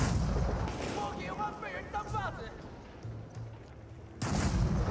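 Artillery pounding an outpost in Age of Empires 4, a dense, continuous rumble of booming fire mixed with battle noise, loud throughout with a brief drop in the middle and speech over the din.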